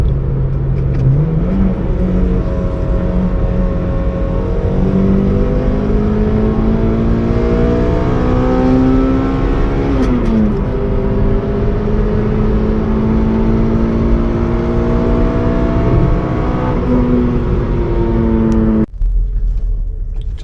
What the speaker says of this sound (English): something about a high revving engine.